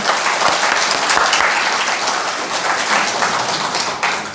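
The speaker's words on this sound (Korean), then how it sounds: "박수 한번 쳐주세요." An audience at a book concert claps together for a talk with a committee chair, a full, lively round of applause with a few sharper individual claps standing out near the front, holding steady throughout.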